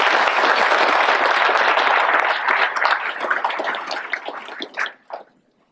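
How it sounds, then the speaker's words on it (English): A large audience of bikers applauding at the Sturgis Motorcycle Museum and Hall of Fame ceremony, loud sustained clapping that thins out and dies away after about five seconds. "Give yourself a round of applause."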